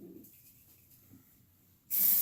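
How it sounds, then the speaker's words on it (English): A sudden loud, sharp hiss of aerosol hairspray bursts in near the end, following a stretch of quiet low rustling. "Smells like hairspray. Spray my hair,"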